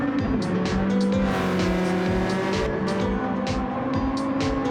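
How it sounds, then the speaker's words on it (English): A classic racing car in Gran Turismo 7 at Le Mans roars loudly with a sustained engine drone and repeated shift blips, tyres squealing intermittently, with no talking over it. "that car sounds so good"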